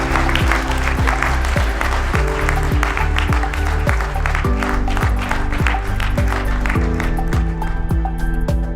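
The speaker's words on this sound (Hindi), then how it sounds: "तो मैं चाहता हूँ एक जोरदार तालियों से इनका हौसला अफजाई करें।" Trainees at an Indian Air Force airmen training academy clap together loudly in a close, steady rhythm, with a few sharp taps and a faint murmur mixed in under the sustained beat.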